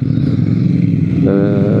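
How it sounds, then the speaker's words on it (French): Triumph Thruxton 1200 RS (2020) motorcycle engine running steadily up close, then revving quickly to higher rpm, with a rising harmonic whine near the end of the loud, continuous sound. "On sent bien que le moteur il répond très très vite, qu'il prend très vite ses tours."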